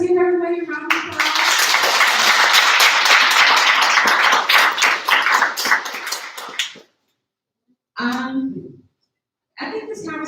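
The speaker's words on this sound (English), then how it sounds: "Let's give everybody a round of applause." An audience at a panel event breaks into sustained clapping for several seconds, fairly close and dense, fading out before short bursts of talk follow.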